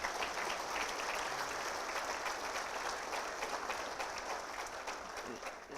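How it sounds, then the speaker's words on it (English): A civic audience at a city address applauds with steady, dense clapping heard from a distance, faint and even for several seconds with no voice on top. "So I'd like to offer a round of applause to the TSC board and to Lily"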